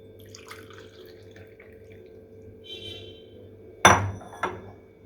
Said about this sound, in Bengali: এবারে আমি কাপে ঢেলে নিচ্ছি।